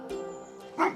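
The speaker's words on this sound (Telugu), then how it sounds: "కుక్క" A dog gives a brief bark, a short tonal yelp followed by a sharper burst, close by and alone.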